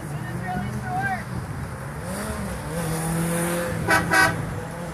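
Two short car horn toots of support sound near the end over steady traffic noise and a murmur of voices from marching protesters in Pensacola.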